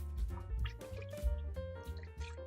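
Water splashing and dripping as a dirty makeup brush is rinsed under running water, with wet squishing of bristles and irregular drips close by, continuous throughout.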